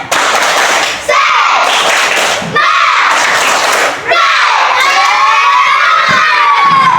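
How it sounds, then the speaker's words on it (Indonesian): A class of students stands in a chilly room, shouting, cheering and clapping in loud, dense bursts that swell and dip several times, with children's voices rising over the noise throughout. "Tepuk tangan."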